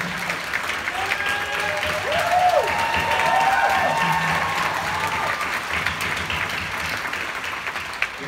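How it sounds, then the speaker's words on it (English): Sustained applause from a large crowd, steady and loud throughout, with some whistles and cheers rising over the clapping. "Let's give him a round of applause."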